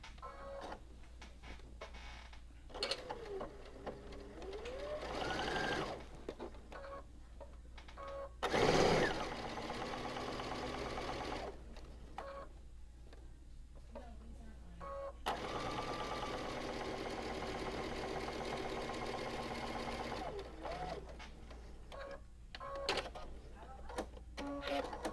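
Sewing machine stitching a quarter-inch seam on a pleated tree quilt block, running in several steady whirring bursts of varied length with quiet pauses between them.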